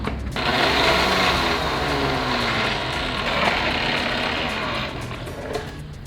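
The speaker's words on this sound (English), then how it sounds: "So what I'm gonna do is blend it first with the lemon juice." A kitchen blender whirs steadily as it blends chickpea hummus with the juice of two lemons, a loud continuous motor whine that runs close up for about five seconds before cutting out, with no talking.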